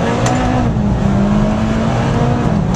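A Mitsubishi Lancer Evolution X pulls away under launch control with a loud, steady engine roar that shifts pitch as the transmission changes gear hard. No voices are heard.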